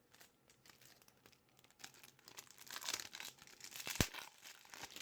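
Close, quiet crinkling and tearing of the packaging on a Magic card starter kit, soft rustles that build to a sharper rip near the end.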